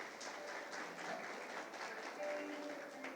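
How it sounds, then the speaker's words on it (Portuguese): A church congregation claps for visitors during a Sunday celebration service, a faint, steady wash of applause heard from a distance throughout. "Uma salva de palmas para os nossos visitantes, por favor."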